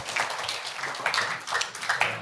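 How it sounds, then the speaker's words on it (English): Audience applause at a mentorship program session, a steady patter of many hands clapping at moderate level for a couple of seconds, with faint voices mixed in. "give yourself a round of applause, please"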